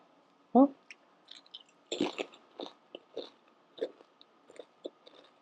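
Crisp crunching bites into a Trader Joe's potato chip, one sharp first crunch followed by a run of close, irregular chewing crackles, alone without talk.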